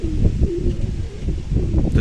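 Pet pigeons in a pair coo with low, rolling throaty calls repeating in overlapping bursts, close by, with faint rustling and soft chirps in the background and no speech.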